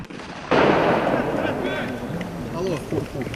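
A single loud blast erupts suddenly during military training exercises, then a long rolling rumble fades slowly while a voice talks over the tail.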